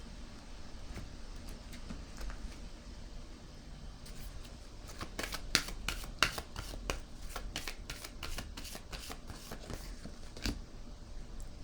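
Tarot cards being shuffled, a rapid burst of crisp riffling snaps in the middle, with softer card handling and placing before and after, close and fairly quiet, with no talking.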